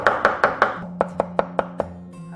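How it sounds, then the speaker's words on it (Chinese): A kitchen knife mincing crushed garlic on a chopping board gives about nine crisp, close strikes: four heavier chops in quick succession, a short pause, then five lighter, evenly spaced taps. "先拍碎， 然后切成蒜末"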